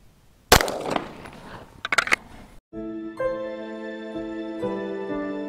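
A Canik TP9 SFX pistol fires in a circle break shooting drill: one sharp close shot, then a short cluster of quicker cracks, followed by a ringing, tonal electronic sound.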